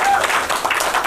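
A studio audience on a college cooking show claps. The applause is dense and continuous, close and fairly loud, with no voice heard over it.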